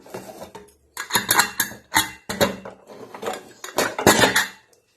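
A pressure cooker holding freshly cooked green tomato biryani is unlatched and its lid lifted, giving a run of close metallic clanks, scrapes and rattles in separate bursts with short pauses between.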